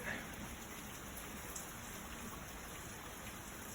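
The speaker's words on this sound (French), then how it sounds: "Ça pleut vraiment énormément." Heavy rain pours steadily during a summer thunderstorm, a dense constant hiss heard faintly and evenly throughout, with no distinct thunderclap.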